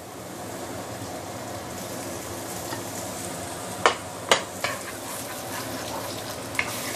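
Shiitake mushrooms stir fry in a hot pan, making a continuous hissing sizzle with a few sharp clacks of a utensil against the pan midway, close and steady, with no voices.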